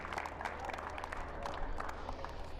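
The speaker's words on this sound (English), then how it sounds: "A round of applause." Faint applause from a crowd at a school tennis competition prize-giving, a steady patter of clapping held at a distance for a couple of seconds.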